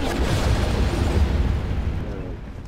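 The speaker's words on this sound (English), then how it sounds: "what's with all these bombs?" Bombs blowing up in the side-scrolling action game Dust: An Elysian Tail, a dense continuous rumble of overlapping booms and crackle that fades slightly toward the end, with no talk.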